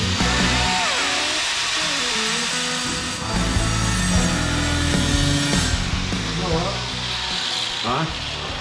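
A power tool trims a radius cutout for a sink in a mixing-bowl-shaped fixture, a continuous loud grinding whine with shifting pitch as it cuts, steady throughout.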